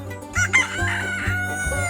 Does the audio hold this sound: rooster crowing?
yes